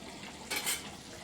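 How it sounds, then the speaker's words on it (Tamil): Fish curry bubbles in a clay pot, a faint, steady simmering hiss with one brief louder stir or splash in the middle. "நல்லா கொதிக்குது."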